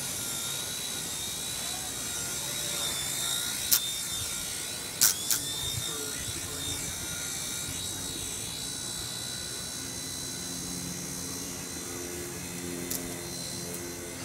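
A Blade mCP X RC helicopter flies in a backyard with a steady high-pitched electric whine of motor and rotor, shifting pitch as it maneuvers, with a few sharp ticks and clicks along the way. Talk is faint underneath.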